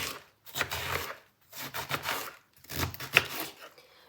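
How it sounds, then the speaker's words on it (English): Three bursts of rapid knife chopping cabbage into cubes on a board, each lasting about a second with short pauses between, close and fairly quiet. "we'll dice it into cubes"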